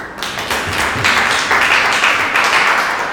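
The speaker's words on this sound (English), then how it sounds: "I know you will clap better" A seminar audience claps together in a dense, continuous burst of applause filling the room, loud and steady throughout with no voices on top.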